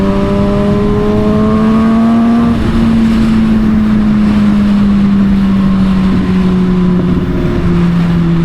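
A Kawasaki ZX-6R motorcycle engine while riding, loud and close with a sustained high-revving whine that shifts pitch as the rider changes gear, over heavy rushing wind noise.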